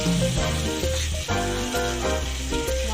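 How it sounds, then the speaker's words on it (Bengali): Onions frying in oil in a pan, a close, loud sizzle with bursts of crackle as they are stirred, continuous and without voices. "পেঁয়াজটা একটু ভাজা হয়ে যাবে"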